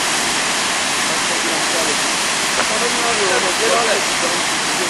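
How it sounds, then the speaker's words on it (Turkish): Constant roar of a waterfall in the Kaçkar highlands, broad and loud, filling the whole stretch without pause. "Satapların altında bir şelale."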